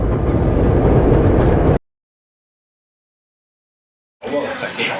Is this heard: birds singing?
no